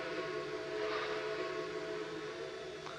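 Steady sustained steam whistle of the CP H1a Empress 2816 locomotive in the Trainz simulator, a loud chorded tone held for about three seconds with no talk.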